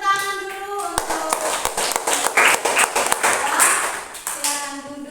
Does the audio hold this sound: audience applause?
yes